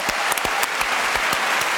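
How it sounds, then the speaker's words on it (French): A French television studio audience applauds a departing guest, dense steady clapping with sharp individual claps standing out, close and continuous without any talk. "applaudissements pour Sophie qui va nous quitter d'ici quelques instants"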